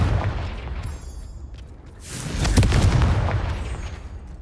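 Confringo spell explosion in Hogwarts Legacy, a deep booming blast with crackling debris, preceded by lower rumbling bursts, loud and close with no talking.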